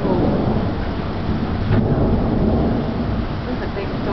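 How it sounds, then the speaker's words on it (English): Heavy thunderstorm with steady pounding rain and a deep rolling roar of thunder, loud and continuous throughout, with no clear talk over it. "This is a big storm."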